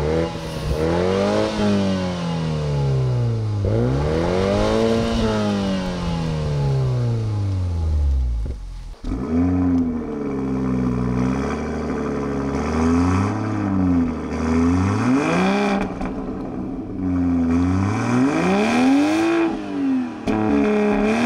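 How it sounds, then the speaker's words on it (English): Toyota Supra 3-liter inline six exhaust revving loud and close, rising and falling through repeated throttle blips, sustained engine note with no talking. "we have that excellent 3-liter inline six exhaust note here"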